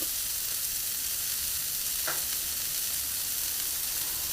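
Onions sizzling on a flat griddle for an Oklahoma onion smash burger, a steady close hiss of frying with no voices and a brief scrape partway through.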